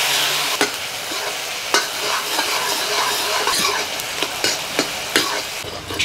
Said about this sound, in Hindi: और इसको हम प्याज को लाल होने तक भूनेंगे।